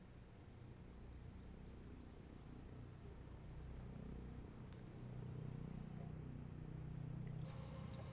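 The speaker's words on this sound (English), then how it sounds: "now the temperature is rising, which means the engine is starting properly" Saab 340 turboprop engine starting in Microsoft Flight Simulator 2024: a low, steady rumble that builds gradually and stays continuous, with a faint rising whine.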